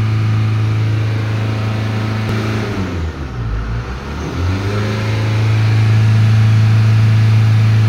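A Chevrolet Colorado with an automatic transmission and a low-power fault (P0402) idles with a steady engine hum, then revs up, dips and climbs again before settling into a loud sustained drone near its limit of roughly 3,400 RPM.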